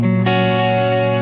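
A sustained electric guitar chord through a short analog delay rings out, thick and heavily processed, with a second attack just after it starts and a smeared, echoing tail.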